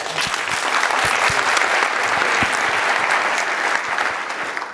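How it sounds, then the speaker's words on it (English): A conference audience breaks into loud, steady applause for several seconds, dense crowd clapping with a few louder individual claps standing out, tapering slightly at the end. "Big round of applause."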